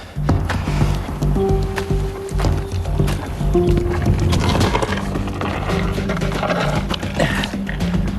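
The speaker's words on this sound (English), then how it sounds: "Now it's time to put this winch to work, and it all starts with this lever pole" Hand winch cranked with a wooden lever pole under heavy tension at a creek, with creaking wooden groans and strained rubbing sounds, close and continuous amid outdoor noise.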